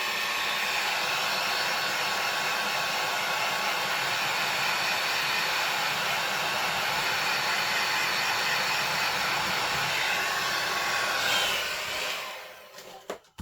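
A big heat gun used as a paint stripper blasts steady, loud airflow over freshly stamped ink for about eleven seconds, then cuts off abruptly with a few small clicks and knocks at the end.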